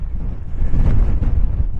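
Strong gusting wind buffets the microphone on the grassy summit of the Hill of Dunnydeer, an old hill fort near Insch, Aberdeenshire; a loud, low rumbling roar surges and dips with the gusts, with no voices.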